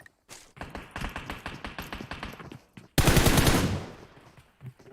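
Automatic gunfire in the mobile battle royale game PUBG Mobile: a rapid string of close shots, followed by a louder, dense burst of fire that fades out.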